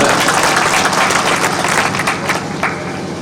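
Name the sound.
audience applause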